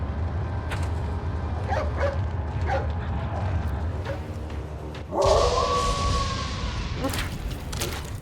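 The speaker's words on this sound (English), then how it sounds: "Hey, it's that dog." In the video game Resident Evil 4, a dog barks several times amid thumps and game action, with a louder whooshing burst midway and the barks fairly close and sharp.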